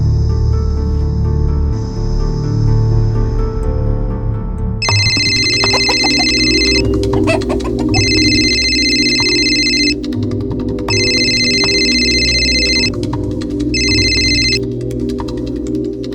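A telephone ringback tone sounds after a call is placed, a series of bright repeated electronic rings in regular bursts, coming after a few seconds of low background noise.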